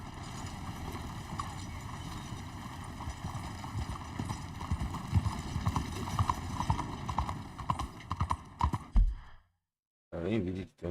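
Horse hooves clip-clop steadily at a walking pace in the game Red Dead Redemption 2, loud and close under game music, then stop abruptly before a brief burst of other sound.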